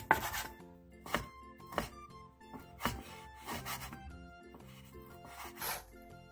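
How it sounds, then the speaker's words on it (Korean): A kitchen knife cuts 300 g of beef brisket against the grain on a cutting board, producing a series of separate, crisp chopping knocks at an uneven pace, close and fairly quiet. "소고기 양지 300g을 결 반대 방향으로 먹기 좋게 잘라주세요"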